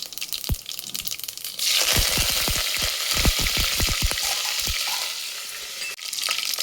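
Curry leaves hit hot oil already crackling with mustard seeds and cumin, bursting into a loud, steady sizzle with a rapid run of sharp pops and spatters close by.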